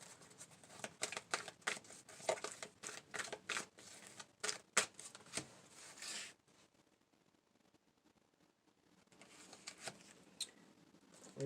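Rapid riffling and soft slapping of tarot cards being shuffled close by, bursts of crisp flicks, a quiet pause, then gentler shuffling resumes.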